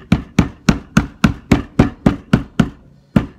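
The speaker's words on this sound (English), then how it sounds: "take my handy dandy tool, my hammer, and I just nail it in" A hammer drives a wooden stick sheathed in a paper straw into a candy apple, giving about ten sharp, evenly spaced close taps with a short pause before the last one, heard alone with no talking.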